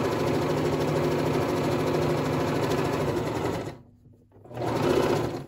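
A sewing machine stitches a zipper onto fabric with a rapid, close mechanical whirring and chatter, running steadily, pausing briefly for a backstitch, then resuming at full speed.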